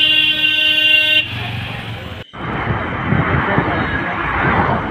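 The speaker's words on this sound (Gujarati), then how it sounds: "જુઓ મિત્રો કેવું ટ્રાફિક છે અંબાજીમાં" Heavy traffic at the crowded Ambaji fair: a sustained car horn blares for over a second, then a dense roar of vehicles and crowd noise continues after a brief cut.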